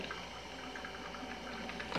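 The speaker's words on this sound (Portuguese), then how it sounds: "A água tá caindo aí." Water pours steadily inside an Electrolux CM303 electric coffee maker during a thermostat repair, a continuous soft trickle and gurgle heard up close with no talking.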